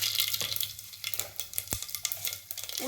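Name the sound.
mustard seeds sizzling in hot oil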